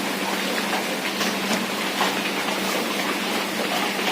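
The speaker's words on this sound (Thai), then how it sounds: "ฝนตกครับเพื่อนๆวันนี้" Steady rain falls outside a dormitory building in Bangkok, a continuous even hiss of drops spread across the whole clip at moderate loudness, with no voices.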